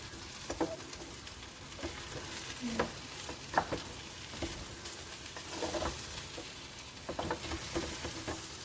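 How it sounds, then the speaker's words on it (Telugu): Potato fry curry being stirred in a pan, a steady soft sizzle of frying under occasional scraping and tapping strokes from the spoon, fairly quiet and continuous. "ఒకసారి కలుపుకుందాము"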